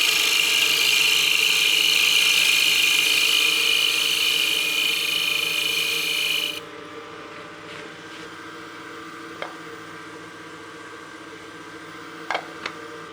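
A woodturning lathe hums and whirs steadily while shaping a small knob for a utility box. A bright, cutting hiss runs for the first half and then stops abruptly, leaving a low motor drone and a few faint clicks.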